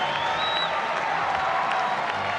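Stadium crowd roaring steadily through a men's steeplechase heat at the Commonwealth Games, a dense, continuous wash of cheering with a thin whistle rising briefly above it.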